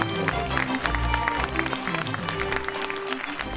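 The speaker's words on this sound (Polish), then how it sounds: "No i wielkie brawa, proszę Państwa." Audience at a sports awards gala applauds steadily with dense clapping, while music with a sustained tonal line plays beneath it.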